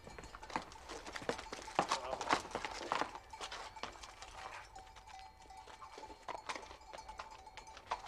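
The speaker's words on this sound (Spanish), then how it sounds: "Me voy a llevar el caballo a la cuadra." Horse hooves clip-clopping in a steady walking rhythm on hard ground as the animal is led to a stable, fairly close, with some background voices and shuffling.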